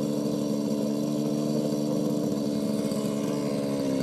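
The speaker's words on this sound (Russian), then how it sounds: "Завела уже триммер и будет там вокруг дома косить." A small two-stroke string trimmer engine drones steadily at a constant high idle, a buzzing hum with no other sounds over it.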